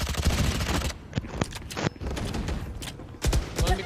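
Rapid automatic gunfire in a tactical shooter video game, with loud bursts of sprayed shots, a brief pause, then more close bursts and mechanical clicks, with no voices.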